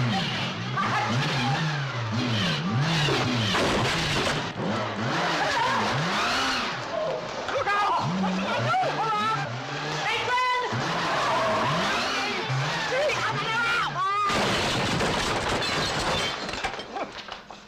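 A car pulls away outside a hospital with a revving engine and squealing, skidding tyres, loud and continuous, mixed with a crash of shattering and frantic voices talking over the commotion.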